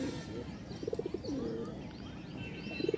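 Pigeons coo on a rooftop in soft, throaty rolling bursts, a couple of nearby calls over faint background hiss and light chirping.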